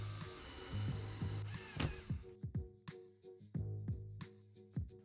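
Holes being drilled into a cap for a modular DMX lighting rig, heard as a run of short, sharp bursts of drilling and mechanical clicking, close and fairly loud, with brief pauses between them and no talk.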